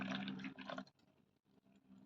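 Melted jaggery water is poured through a kitchen sieve, giving a faint close trickle and splash that thins to quiet drips after the first second.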